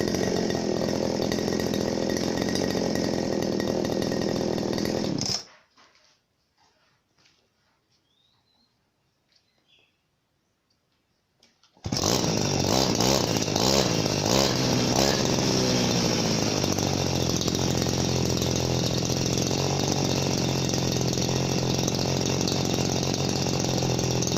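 A Makita 411 two-stroke brush cutter screams at high revs close up, cuts out abruptly into near silence for several seconds, then a Chinese copy 411 starts and runs loud and steady.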